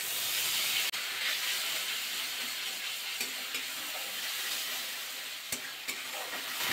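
Loud, continuous sizzling and hissing steam rise as a splash of water hits hot oil holding black cumin seeds and ginger, with a few brief clinks of stirring over the dense frying noise.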